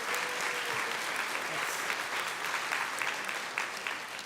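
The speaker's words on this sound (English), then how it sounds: "That's worth a clap." Congregation at a Unitarian Universalist worship service gives sustained, even applause that fills the room at moderate loudness without talk.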